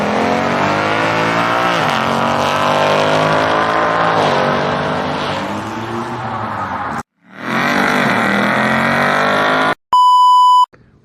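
An orange stock Ford 5.0 and a Golf R launch side by side at a street car takeover, engines roaring loudly and rising through gears for several seconds, then a brief dropout and a sharp electronic beep.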